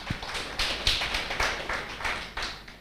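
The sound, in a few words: round of applause at a symposium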